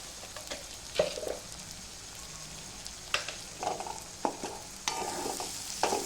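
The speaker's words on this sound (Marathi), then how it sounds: "गरम मसाला लाल तिखट वगैरे सगळं मसाले धने पावडर हे सगळं आपण तेलामध्ये छानपैकी फ्राय करून घेतोय" Spices such as garam masala, red chilli powder and coriander powder frying in hot oil for chicken fry, with intermittent scraping stirs and soft sizzling bursts, close and moderately quiet.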